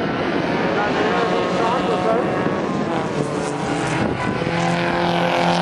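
Race cars thunder around a track during the first heat of a junior race at Ripa, their dense, continuous engine roar filling the scene at close range, with a commentator talking over it throughout.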